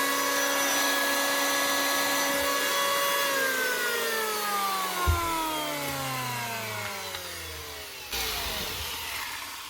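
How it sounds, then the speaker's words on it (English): A 30-year-old Makita electric planer with a blown capacitor spins down after running, its whine sliding steadily lower in pitch over several seconds with a brief knock midway and a small bump near the end, loud and close with no talking. "One 30-year-old Makita planer, just with an old capacitor blown on it."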